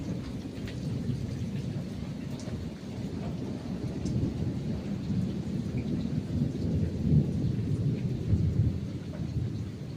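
A Kalbaishakhi thunderstorm sweeps over the Sundarbans, heavy rain roaring steadily while deep thunder rumbles and swells through the background, continuous and loud with no voices.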